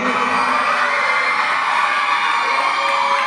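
Schoolchildren at a Vennikulam school event shout and boo loudly together, a dense, sustained crowd roar with whoops and cheers running through the whole stretch without pause.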